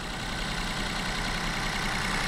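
A Volkswagen T-Cross with a direct-injection engine idles with a steady, clattery diesel-like hum, a constant low drone at even level throughout, with no voices.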